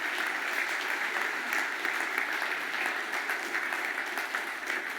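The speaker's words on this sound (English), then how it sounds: "please a warm applause for our panel members" Sustained applause from an audience after a panel discussion at a security event, dense and even clapping that holds steady throughout without voices.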